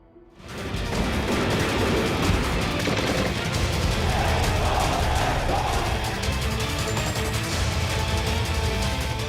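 Army gunfire in Myanmar, a dense sustained roar of rapid crackling shots and rumbling bursts that swells in and stays loud throughout, with no pauses.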